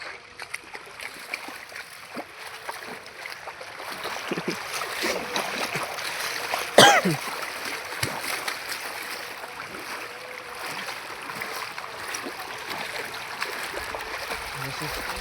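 Floodwater from rain rushes and gurgles steadily across a road nearby in Lamdhar, with a few faint splashes and one sharp knock midway; no speech stands out over the flow.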